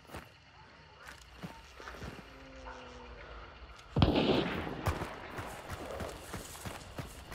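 Distant gunfire in a tactical shooter video game, with several faint cracks followed by one loud close shot and its echo; people talk quietly around it.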